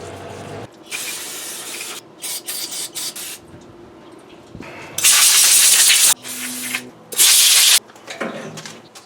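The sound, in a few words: parts washer spraying to clean brake parts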